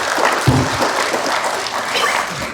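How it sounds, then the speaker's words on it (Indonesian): An audience at a nursing diploma graduation applauds loudly and continuously for a doctor being introduced, dense close clapping throughout. "Tepuk tangan buat Dr."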